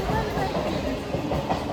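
A train pulls out of Bauria station with a steady rumble and faint rhythmic clatter of wagons over rails, close and continuous, with a low murmur of people in the background.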